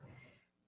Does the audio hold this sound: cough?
yes